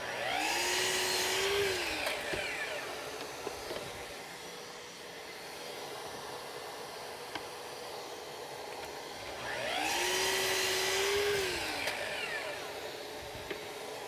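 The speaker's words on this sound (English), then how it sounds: "I'm going to set up a stop at the miter saw when I cut these" A miter saw cuts wooden spacers in a woodshop: two separate bursts of high motor whine that rise, hold for a couple of seconds and fade, with quieter shop background between them.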